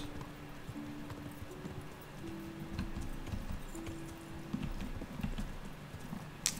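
Horse hooves clip-clopping in the video game Kingdom Come Deliverance, a steady rhythmic trot of soft thuds over a low ambient hum with scattered clicks, moderately quiet and without voices.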